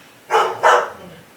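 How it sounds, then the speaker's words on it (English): A dog barks twice in quick succession indoors, two short, close woofs against a quiet background. "is barking at Daddy"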